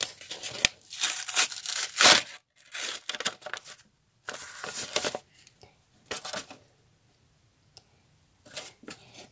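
A small paper surprise packet is opened by hand, with bursts of crinkling and tearing paper separated by short silent pauses, close to the microphone.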